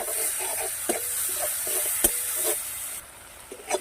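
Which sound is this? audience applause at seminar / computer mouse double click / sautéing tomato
sautéing tomato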